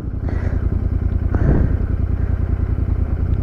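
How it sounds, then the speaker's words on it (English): A modified Interceptor 650 motorcycle being ridden: a steady, close, throbbing engine drone with a fast pulsing beat and a slight rise partway through, with no voices over it. "So I am riding this modified interceptor"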